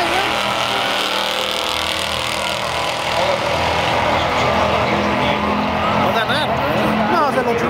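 Loud engines of a Chevelle and a Mustang in a drag race at a motorsports track, roaring steadily throughout amid crowd noise, with people talking over it.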